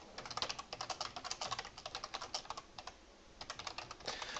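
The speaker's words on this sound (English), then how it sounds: "your keyboard's like insanely loud" Rapid, loud clacking of a computer keyboard during typing, a steady run of close keystrokes with a brief pause before resuming.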